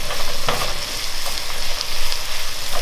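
Mushrooms fry with a splash of soy in a hot pan, a loud, steady sizzle with bursts of crackle and a few scraping stirs, with no talking.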